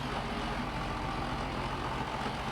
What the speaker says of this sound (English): Not the fastest tractor.